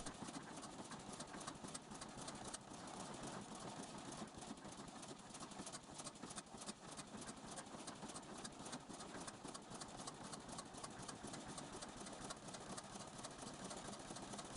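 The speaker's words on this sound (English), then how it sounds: "As combustion begins, the three cylinders fire in a steady sequence, producing a deep, measured exhaust rhythm." A 1911 three-cylinder Atlas engine runs steadily at low speed, its cylinders firing in a continuous, even exhaust rhythm that stays loud and constant throughout, with no talk.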